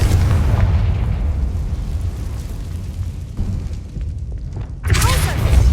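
A Confringo fire spell bursts in Hogwarts Legacy gameplay: a loud, booming explosive blast with rumbling fallout, then a second sharp burst near the end, with no speech over it.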